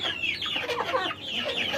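Hens on a small village poultry farm, some laying eggs and eager for feed, cluck and squawk in overlapping bursts, close and fairly loud, with no talk.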